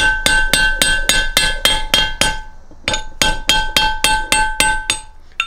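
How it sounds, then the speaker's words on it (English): A small ball peen hammer taps a brass punch while seating a bearing in the rear housing of a Jeep TJ Rubicon NSG370 transmission. Sharp metallic clinks come in two quick runs of evenly spaced strikes, close and clear with no talk. "you can see how small a ball peen hammer it is"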